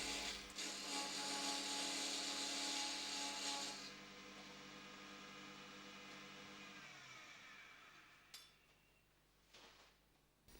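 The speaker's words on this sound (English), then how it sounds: "Take a 1/8 inch parting tool and cut a spigot to suit the chuck jaws" A 1/8 inch parting tool cuts a spigot into a chuck-held wood blank on a lathe spinning at 1500 RPM. A loud, hissing cut runs for about four seconds, then the lathe hums alone as the cutting fades out.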